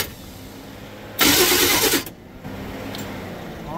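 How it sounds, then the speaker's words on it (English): A long-neglected off-road rig cranks with a short, loud starter burst and then catches. It settles into a quieter running idle nearby, with fans humming in the background. "Let's see if she cranks."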